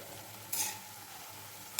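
Vegetables for shukto frying gently in a pan over low heat, a faint, steady hiss broken by two short bursts of stirring sizzle.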